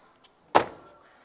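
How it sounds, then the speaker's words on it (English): A single solid door thud from a 2022 Jeep Grand Cherokee L Summit, sharp and close, preceded by a faint click and fading quickly into quiet. "If I close the doors"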